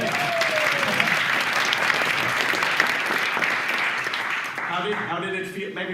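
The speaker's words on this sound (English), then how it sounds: "Round of applause for Tanya." Audience applause for Tanya after her turn at a talk, a dense, steady crowd clapping that fills the room and fades near the end as a voice starts speaking.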